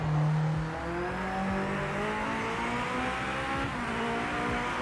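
Race car engine in a racing video game droning and revving with a thin, whiny buzz, shifting pitch steadily throughout at a moderate level, with no talk over it.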